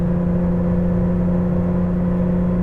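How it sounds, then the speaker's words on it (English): A 1983 Porsche 911 with the 3.2 engine pulling uphill at half throttle, giving a steady, loud, close droning hum from inside the car with no voices. "Going up the hill, half throttle,"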